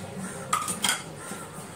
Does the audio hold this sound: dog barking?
no